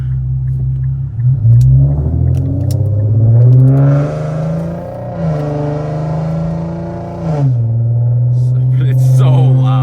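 A loud exhaust on an Infiniti Q50 3.7 roars up through the gears from inside the car, with a steady idle rumble giving way to repeated hard revving pulls and a drop back to a low drone.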